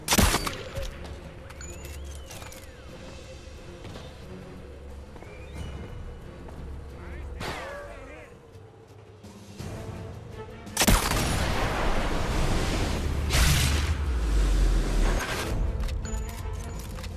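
Gunfire in the Sniper Elite VR video game bursts out as loud, dense rattling shots amid game ambience and rumbling, with scattered impacts earlier and a heavy fusillade in the second half; a voice speaks at times.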